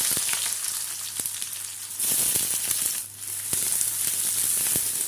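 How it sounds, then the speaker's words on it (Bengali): Sliced onion frying in hot oil for an egg masala, a steady close crackling sizzle with dense fine hissing throughout and a few brief sharper pops, no voices. "পেঁয়াজটা দিয়ে হালকা সোনালি করে ভেজে নিব"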